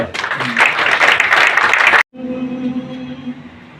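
Loud applause from a crowd at a journalists' seminar for about two seconds, cut off abruptly and followed by a sustained musical tone as Vande Mataram begins.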